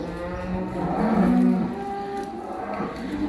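Cattle moo on a lush farm, a long low drawn-out call swelling in the middle, close and loud over ambient outdoor noise.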